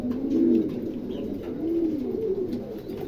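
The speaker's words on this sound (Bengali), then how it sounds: "দেখেন কবুতরটা, দেখেন খুবই চমৎকার দুটো কবুতর" A pair of Mundian pigeons coo close by in soft, low, rolling phrases that repeat several times over a quiet background.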